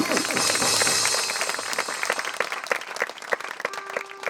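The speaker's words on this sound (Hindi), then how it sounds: "हम आदर और सम्मान के साथ ताली बजाते हुए उनको हम स्वागत करेंगे जोरदार ऊंची ताली के साथ" Loud applause from a church congregation welcoming a preacher at a Christian gathering, dense clapping that starts strong and gradually thins and becomes more scattered toward the end, with faint voices mixed in.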